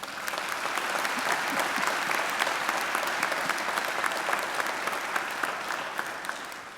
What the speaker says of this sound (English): I think Christina deserves another great round of applause.